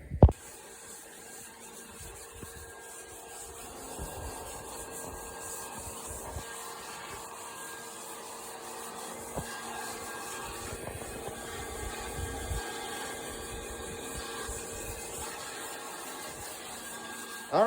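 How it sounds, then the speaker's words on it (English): A steady whirring hiss of a buffer polishing an old car bumper runs throughout at even volume, with slight rubbing variations and no talk. "I finished up with the second polishing on the bumper"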